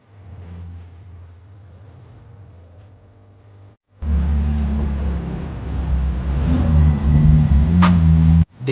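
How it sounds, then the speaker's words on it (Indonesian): Luxury car engine rising loudly as it revs while driving, a strong low rumble building after a quieter start with a brief cut before the surge. "Dijemputnya juga bukan kaleng-kaleng, pakai mobil mewah."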